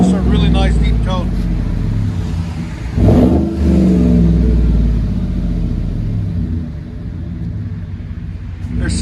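A Chevy Silverado with a 5.3L V8 and Flowmaster Flow FX exhaust revs loud and close, giving a deep, steady rumble with a sharp throttle blip midway, then settling back to a low idle-like drone.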